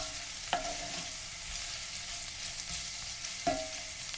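Onions softening in a pan for chilli make a soft, even sizzle as they are stirred, with two sharp utensil knocks against the pan; no talking.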